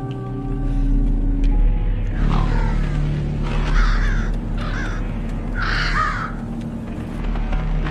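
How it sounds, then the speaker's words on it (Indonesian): A flock of crows cawing, four or five harsh caws in an irregular series, fairly close and loud over a constant low rumbling background. "Putrinya yang bernama Meg melihat segerombolan burung gagak yang datang dan mulai mengerumuni mayat ayah dan adiknya"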